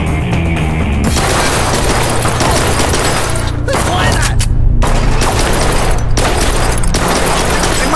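Gunfire and booming shots in the shooter game Blue Estate, a dense, continuous volley of loud bursts with brief gaps, under game music and voices.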